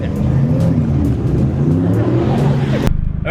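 A car with an F22B1 engine racing a GTI at the track: a loud, steady engine roar with rising harmonic tones under faint voices, cutting off abruptly near the end.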